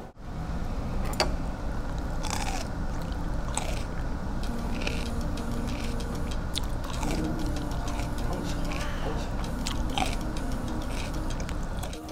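Close, crisp biting and crunchy chewing of aged, deeply fermented kimchi, with repeated crunches and wet mastication throughout and no talking.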